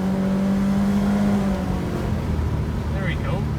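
A 2016 Subaru Impreza 2.0i Limited engine with 60k miles revs hard from inside the cabin, a steady loud drone that climbs toward redline and then eases off, while occupants talk over it.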